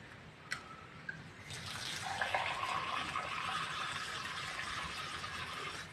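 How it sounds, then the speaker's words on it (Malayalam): Water runs steadily from the tap of a Jalamithra water filter after a couple of faint clicks, a soft, even splashing stream that continues to the end, fairly quiet and close. "ഇൻസ്റ്റാൾ ചെയ്ത ശേഷം ഉള്ള വെള്ളം നമ്മൾ ജസ്റ്റ് ഈ ടാപ്പ് വഴി നിങ്ങൾക്ക് എടുക്കുകയാണ്"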